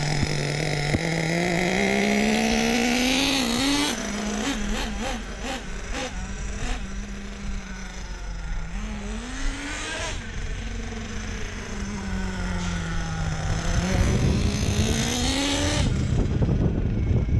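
A Traxxas Savage XL RC truck with a Force .32 nitro engine runs nonstop, its loud, buzzing high-pitched whine rising and falling as it revs and settles, heard up close.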